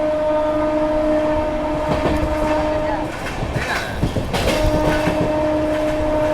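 An oncoming train passes on the adjacent track while riding an Amrit Bharat Express between Patna and Delhi; a loud rushing rumble with steady tonal drones, brief sharp clatters and a swell midway.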